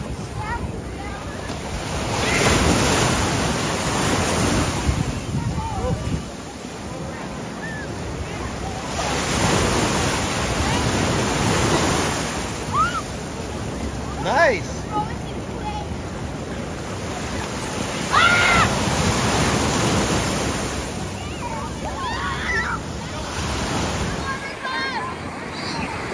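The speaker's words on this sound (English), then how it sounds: "Likes these waves." Surf breaking on a Gulf beach in Panama City, Florida, a steady wash of waves with gusty wind buffeting the microphone and voices talking over it.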